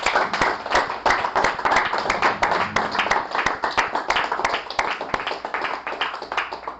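Seminar attendees applaud in a sustained round of loud, rapid hand claps that form a lively, even rhythm. Faint murmuring voices can be heard under the clapping.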